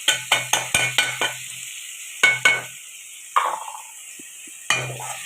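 Masala spices sautéing in a pan for a dried fish curry: a soft sizzle under bursts of rapid spatula clacks and scrapes, close and fairly loud, with short pauses between strokes.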